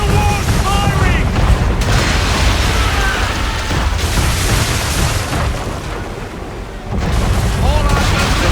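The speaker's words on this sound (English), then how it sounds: "Man of war's firing!" Broadside cannon fire from a man-of-war ship in the game Assassin's Creed III, dense booming blasts layered over constant battle noise and crashing water, loud and sustained throughout.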